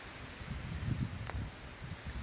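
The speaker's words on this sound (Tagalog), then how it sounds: "Ang lakas ng hangin mga kanter oh." Strong wind gusting through leaves in a cornfield, a steady close rustling roar with muffled low buffeting, brief and fairly quiet.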